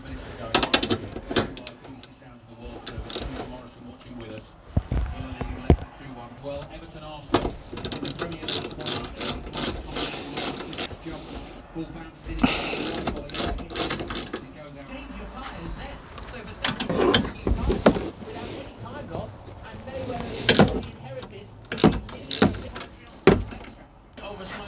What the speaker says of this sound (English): They've got this Torx fitting, so you need a T40 bit to get these out.